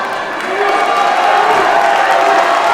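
A divided crowd at a wrestling match between MLD and Leon Slater, a steady roar of cheering and noise that swells slightly and holds loud throughout.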